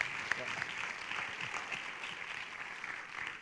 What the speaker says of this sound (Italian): C'è un grande applauso a Don Giovanni Momini.